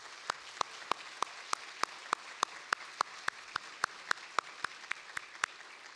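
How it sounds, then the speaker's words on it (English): Clapping at an opening-session gathering, a steady, evenly spaced run of sharp claps keeping a regular beat throughout, fairly close and clear with no voices. "So let's give them a round of applause again."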